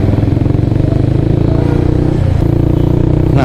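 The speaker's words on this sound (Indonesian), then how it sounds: "Suzuki Inazuma ini didukung dengan mesin 4 langkah SOHC 248 cc" A Suzuki Inazuma motorcycle with a 248 cc four-stroke SOHC engine runs loud and close in a steady, throbbing drone, its pitch stepping up and shifting near the end as it revs.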